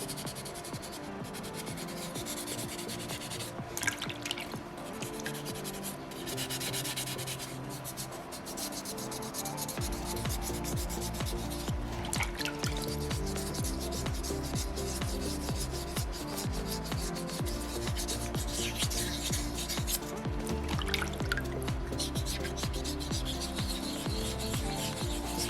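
Soapstone carving of a small Moai being wet sanded by hand, a steady close rubbing and rasping scrape that continues throughout at moderate loudness, with no voices.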